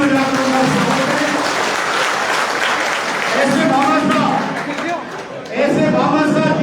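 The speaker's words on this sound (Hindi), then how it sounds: "जोरदार ताली बजाकर उनका स्वागत है" A crowd at an open-air public stage event in Nawalgarh applauds loudly to welcome a trust secretary, dense sustained clapping with chatter and voices mixed in, dipping briefly before swelling again.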